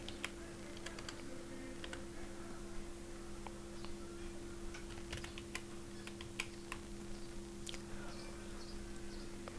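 Fingers tapping on a computer keyboard, a quiet, close run of light clicks in uneven bursts over faint background hum, with no voices.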